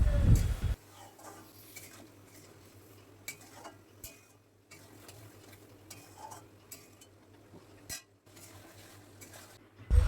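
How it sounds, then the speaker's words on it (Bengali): Spices sizzle in a cooking pan for a fish curry with potato and drumsticks, with scraping, clinking stirs of a utensil against the pan over a low fry, and a few louder knocks. "এবার ভালো করে মশলাটা কষিয়ে নেওয়া হবে"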